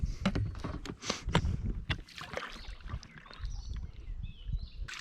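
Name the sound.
rowboat being turned around on lake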